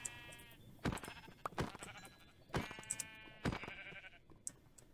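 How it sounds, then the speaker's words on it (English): Several sheep in Minecraft bleat one after another, with distinct harmonic calls coming in irregular bursts over quiet game ambience. "So if I go and get myself some sheep here, just place a few of them."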